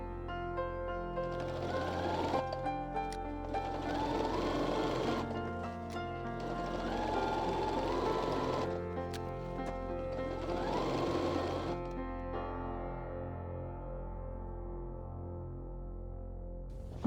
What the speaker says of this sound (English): I will sew close to the edge, leave the end open, and then I'll have another channel